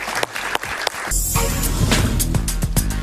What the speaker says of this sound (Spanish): Un aplauso para Paciano.